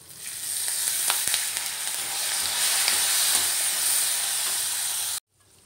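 Curry leaves and slit green chillies sizzle and crackle in hot oil for raw mango pulihora, a steady close hiss with scattered pops that cuts off abruptly near the end.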